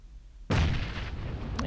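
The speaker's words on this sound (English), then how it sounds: "So I'm going to give myself a little cushion with a grenade." A single grenade blast in the PUBG video game: a sudden loud, booming burst after a quiet moment, followed by a rumbling, crackling decay with a faint later pop.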